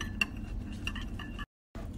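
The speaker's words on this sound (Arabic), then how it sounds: "وخليني احط الرز واخلطه" Ground rice stirred into a little milk for a homemade face mask, a spoon scraping and clinking softly against a bowl in a steady rhythm, close by, with a brief silent gap near the end.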